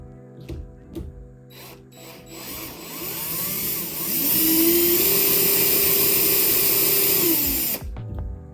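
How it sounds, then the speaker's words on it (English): A screw is driven into a replacement doorknob with a power tool, a rising whir that holds steady for a few seconds after some handling clicks, then stops abruptly. "let's go ahead and screw it in"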